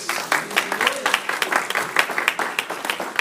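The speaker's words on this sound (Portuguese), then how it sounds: "Dá uma salva de palmas ao Senhor Jesus." A church congregation at an evangelical service applauds with lively, slightly rhythmic clapping that holds steady and close for a few seconds.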